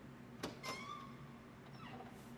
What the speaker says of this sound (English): Just open the door, gang.